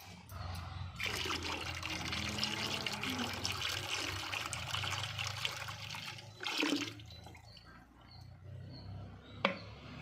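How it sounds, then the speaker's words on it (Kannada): Cultures are poured into a liquid and stirred in one direction, for treating rhizome rot in a ginger crop. Watery pouring and sloshing runs through most of the clip, with a louder splash near the end and faint voices in the background. "ಈ ರೀತಿ ಎಲ್ಲ ಕಲ್ಚರ್ಸ್ನು ಸಪ್ರೇಟಾಗಿ ಆ್ಯಡ್ ಮಾಡಿ ಎಡದಿಂದ ಬಲಕ್ಕೆ ಒಂದೇ ಡೈರೆಕ್ಷನಲ್ಲಿ ನಮಗೆ ತಿರುಗಿಸ್ತಾ ಬರಬೇಕಾಗ್ತದೆ"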